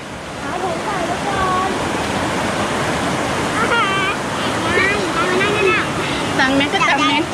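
A waterfall at Wang Takhrai roars with strong rushing water, a loud continuous wash that fills the whole clip, with voices calling out faintly over it toward the end.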